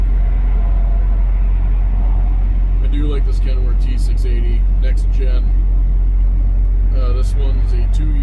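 Cab noise of a Kenworth T680 next gen truck while driving, a loud steady low rumble throughout with someone talking over it.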